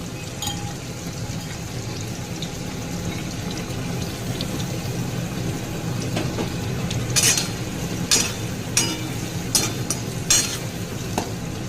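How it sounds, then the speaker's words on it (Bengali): Chopped onions fry in a pan of boiled peas for Bengali ghugni, a steady low sizzle with a spoon stirring and scraping, then sharp clinks of the utensil against the pan near the end. "2টো কুচনো পেঁয়াজ আমি এবার ভালো করে ভাজবো"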